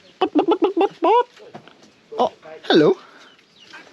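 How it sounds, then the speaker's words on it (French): A hen clucks in a quick series of short, close calls, then gives a few longer squawking notes at a roadside spot in Cambodia, with a person talking nearby. "il y a une poule"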